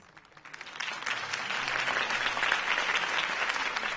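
A crowd applauds after a campaign speech in the Batman Telltale video game, the clapping building quickly from a soft start into dense, sustained applause.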